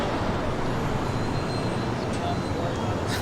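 Road traffic along Imperial Hill near Los Angeles International Airport, a continuous dense roadway rumble with passing vehicles and a brief hiss of air brakes near the end, fairly loud and steady.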